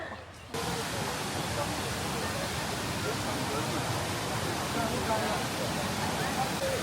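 Steady roar of a waterfall in Laos, a dense broadband rush of falling water that sets in after a brief quieter moment and continues evenly, close and loud.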